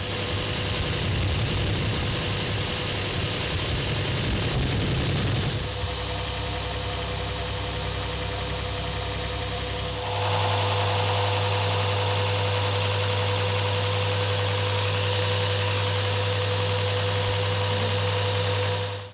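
A belt grinder runs loud and continuous with a fresh 400-grit belt, finishing a skinning knife blade; the drone holds steady, shifting pitch as the blade is pressed and lifted.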